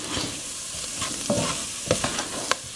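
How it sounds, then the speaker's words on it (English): Flour cooks in kielbasa fat in a pot, giving a low, steady sizzle. A spoon scrapes and stirs through it in intermittent clicks and taps, close up and without talk. "I'm cooking the flour, guys."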